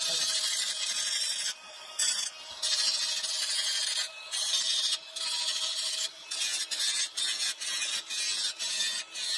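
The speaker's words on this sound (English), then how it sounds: "All I'm doing is beveling the pipe to make it a little bit skinnier so it fits in the hub a little bit better." The end of a PVC pipe is being beveled with rough, rasping strokes, slow and uneven at first and then settling into a quicker, steady back-and-forth rhythm, close up with no talking.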